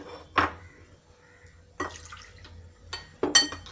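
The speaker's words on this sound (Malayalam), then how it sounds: "ഇതിന് വെള്ളം ഒഴിക്കാം." Water poured into a pan of ground coconut curry paste with cooked chickpeas, yam and raw plantain for koottu curry, coming in short splashing bursts separated by quiet pauses, close by.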